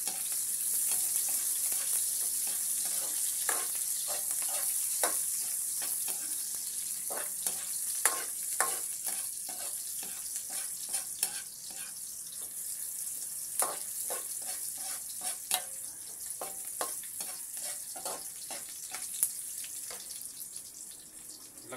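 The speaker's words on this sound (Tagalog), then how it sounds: "Pag mga ganyan na, lagay na natin yung sibuyas." Garlic frying in a pan as onion is added, a continuous bright sizzle with frequent clicks and scrapes of stirring, close and steady for about twenty seconds, no speech.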